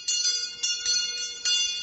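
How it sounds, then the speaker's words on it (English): A bright dinner bell rings in a drama, with several quick clanging strikes and a short ringing decay between them, loud and close with no talk. "saved by the dinner bell."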